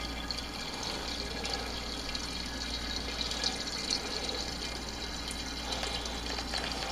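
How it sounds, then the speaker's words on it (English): Homemade milk chocolate strawberry port wine siphons by gravity from a fermenting bucket into a 3-gallon glass carboy, producing a faint, continuous trickling flow of liquid with no voices. "So we're just simply transferring from the bucket into the carboy"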